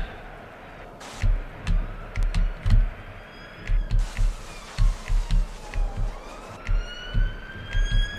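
Police and ambulance sirens from the Tomb Raider video game wail continuously with rising and falling tones, while rapid low thumps pulse steadily beneath them throughout.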